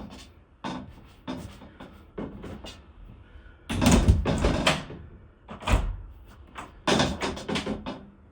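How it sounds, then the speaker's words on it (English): A pantry door is moved back and forth, giving a series of close knocks and rattling bumps, some in quick clusters and a few louder thuds. "we'll stick it to the door so it doesn't make noise every time you move the door"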